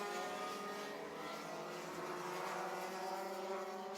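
Rotax Heavy racing karts at the Warwick circuit are heard from a distance, a steady faint buzzing drone of several engines running on together without pause.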